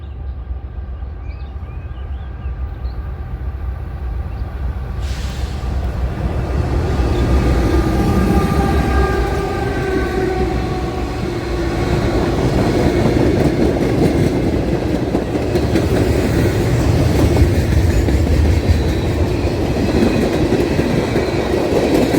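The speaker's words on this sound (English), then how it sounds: "As he passes, he completely blocks an empty coal train headed east" A freight train rumbles past close by, growing loud with steady wheel noise and rattling cars that continues for a long stretch.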